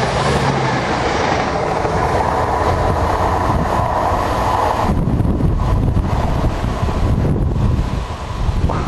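A freight train rolls past a railway line, its loud steady rumble and clatter of wagons mixed with heavy wind buffeting the microphone, continuous throughout.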